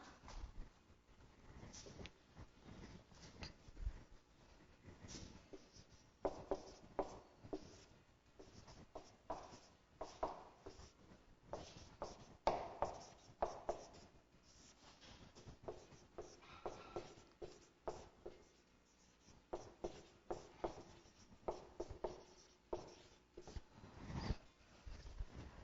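Chalk or marker writing on a classroom board in a Rajasthan ICT satellite lesson: steady scratchy strokes in quick irregular bursts, fairly close and fairly quiet, with no talk.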